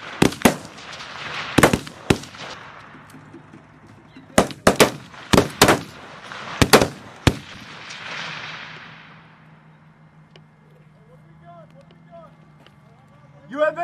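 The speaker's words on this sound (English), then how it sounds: "you're taking fire direct!" Sharp bursts of gunfire crack out in quick clusters during a Marine convoy training exercise, with shouted commands over them before the shooting fades to quieter background noise.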